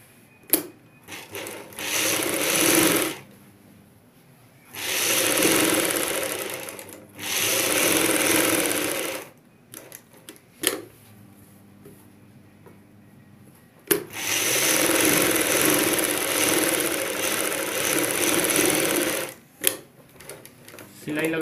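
A sewing machine stitches a front V-neck with buckram in several loud bursts of rapid running, separated by pauses with soft handling noises and a brief voice.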